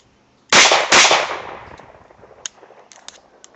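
Two sharp, loud pistol shots from an Astra A70 crack in quick succession about half a second apart, each ringing out with a decaying echo, followed by faint clicks and handling noises.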